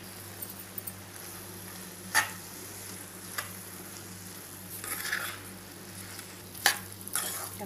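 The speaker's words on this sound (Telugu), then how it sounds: "మసాలా అంతా బీరకాయ ముక్కలు పట్టించేటట్టు బాగా కలిపేసుకోవాలండి" Ridge gourd pieces are stirred into a thick masala gravy in a pan, a quiet sizzle under soft scraping, with a few sharper spoon clinks and stirring bursts spaced through.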